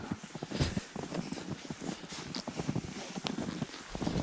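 Draft horse hooves clip-clop at a slow walking pace, soft and somewhat distant, with irregular thuds over a quiet outdoor background in Ukraine.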